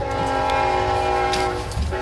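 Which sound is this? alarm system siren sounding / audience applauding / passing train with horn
passing train with horn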